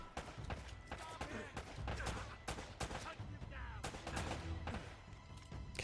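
Rapid, irregular gunfire crackles through a firefight in the action game Uncharted: Drake's Fortune, with repeated sharp shots and thuds layered over a busy, noisy background.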